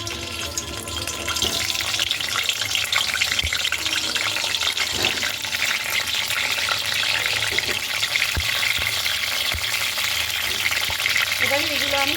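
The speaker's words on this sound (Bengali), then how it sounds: "এবারে এই তেলের মধ্যেই আমি ফুলকপিগুলো দিয়ে দিচ্ছি।" Cauliflower florets for a cauliflower-potato biryani sizzle in hot oil in a pan, a loud, steady frying crackle that continues evenly for the whole stretch, with a few faint clinks.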